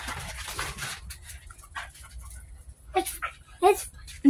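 A pet dog whimpers and pants close by in short, uneven bursts, with people talking over it.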